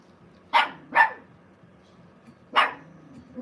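Puppies give three short, sharp barks, two in quick succession and then one more after a pause, close and clear in an otherwise quiet indoor room.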